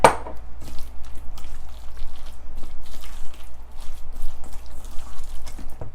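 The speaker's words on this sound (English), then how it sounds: "I'm gonna give this a nice stir." A spoon stirs a pot of tomato sauce seasoned with salt, pepper and Italian seasoning, giving close, wet, squishing and scraping sounds in an irregular rhythm with no one talking.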